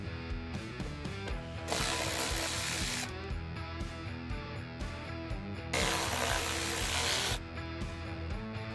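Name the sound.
tool removing bolts under A-pillar covers in Ford Super Duty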